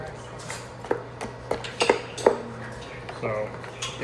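A spoon scrapes and clinks around a pot of gumbo as it is mixed, a few sharp metallic knocks standing out over a low steady background hum, with no talk.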